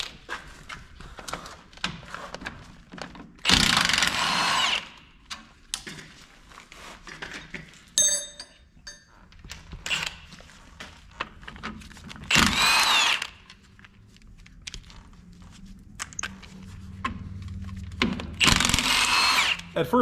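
Power tools, mainly a drill or impact driver, work on a truck, pulling components such as the hydraulic control unit from an OBS Ford. Several loud, separate bursts stand out against quieter clanking and handling of parts.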